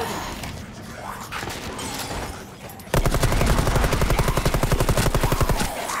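A grenade thrown into a room in Rainbow Six Siege, with a loud, dense burst of explosive, rattling noise that continues for several seconds after a softer stretch of game sound and talk.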